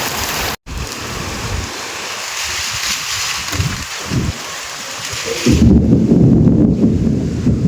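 Rain suddenly falls on an open farm field where seedlings are being pulled: a broad, hissing wash of rain and wind, with a brief dropout early on and a heavier, louder downpour toward the end, and no talking.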